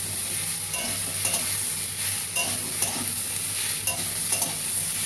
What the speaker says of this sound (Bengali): টমেটো দিয়ে একটু কষা করছি।